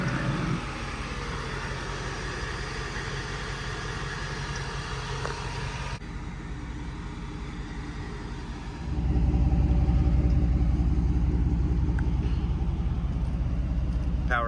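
A 1995 Chevrolet Camaro Z28 with a 5.7-liter naturally aspirated V8 runs steadily with a low rumbling idle, the engine growing noticeably louder and deeper partway through and holding there.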